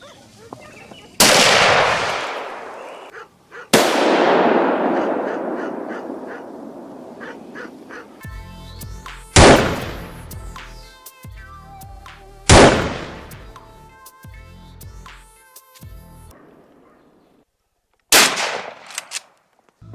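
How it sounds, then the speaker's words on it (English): Rifle shots are fired at a wild boar in the mountains. About five loud, sharp cracks are spaced several seconds apart, each trailing off in a long rolling echo. "I kept my rifle steady, drew in a calm breath, and squeezed the trigger"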